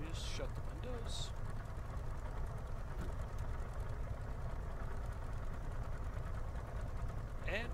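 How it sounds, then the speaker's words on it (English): An aircraft's left engine running during startup, a low steady drone filling the background while someone speaks over it in short bursts. "Keep that left engine running."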